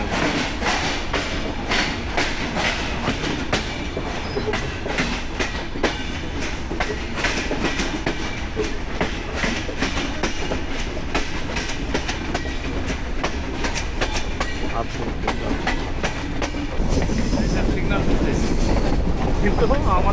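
Padma Express passenger train on the Dhaka to Rajshahi line at night, near Abdulpur junction, rumbling steadily with a continuous clickety-clack of wheels that grows louder and denser toward the end.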